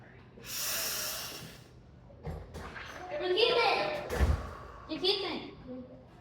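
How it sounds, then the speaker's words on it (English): A slow, deep inhale through the nose in a quiet room, a soft breathy rush rising over about a second, followed by faint murmuring and rustles. "Deep breath in."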